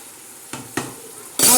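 Moong dal cooking in a pan is stirred with a utensil: two soft scraping strokes over a low simmer, then a sudden loud sizzling burst at the end.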